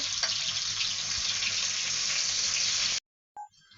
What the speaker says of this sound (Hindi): ये 1 अनियन है जो मैंने मीडियम कटिंग कर ली है, बड़ी लार्ज थी। इसको हम फ्राई करेंगे।